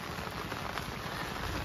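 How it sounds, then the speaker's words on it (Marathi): Heavy rain pours down in a dense, unbroken hiss of drops striking surfaces, steady and even throughout the short stretch. "आणि पाऊस पडतोय भरपूर"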